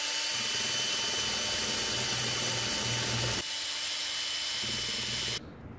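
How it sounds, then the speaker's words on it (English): A power drill spins a cup burr carving into wood, a steady whining whir that shifts pitch partway through as the drill's load changes, then cuts off near the end. "that's probably just because of the speed of the drill"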